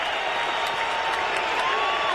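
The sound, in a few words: Buffalo Bills stadium crowd cheering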